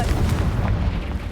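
A Confringo fire spell explodes in Hogwarts Legacy, a loud, close, booming burst that rumbles on with a rough, crackling tail.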